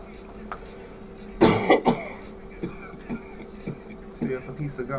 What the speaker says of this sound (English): This is a dry ass cough.